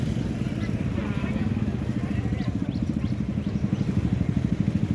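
A motorcycle engine idles close by with a steady, pulsing putter outside a village shop in rural West Sumatra, and people talk faintly underneath.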